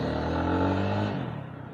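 A BSA Bantam 350 single-cylinder motorcycle engine idles nearby with a steady low putter that eases off slightly toward the end, with no one talking.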